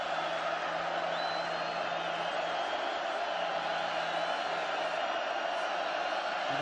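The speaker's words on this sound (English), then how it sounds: "And the crowd gets involved" A football stadium crowd at Purdue at Oregon swells into a sustained roar during a long-yardage down, a dense distant wash of voices and cheering that holds steady throughout.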